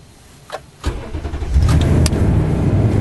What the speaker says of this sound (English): Vehicle started